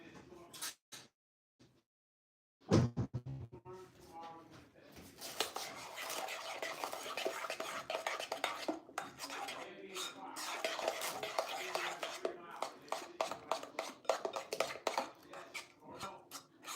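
A spoon stirs cheesecake mixture in a bowl, scraping and clinking against the sides in quick repeated strokes after a short quiet pause, close and moderately loud, with a few faint whispers.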